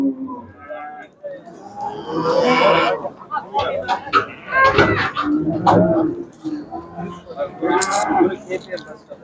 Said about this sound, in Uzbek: Mana bu tomonga ham ho'kizlar bor, har xildan kelgan.